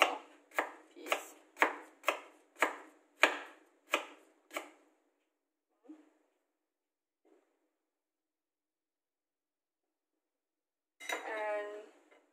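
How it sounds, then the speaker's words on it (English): A knife chops ginger into small pieces on a board in a quick run of about nine sharp, evenly spaced knocks, then a couple of faint taps and a brief rustle near the end. "And the next for ginger, also cut them small piece."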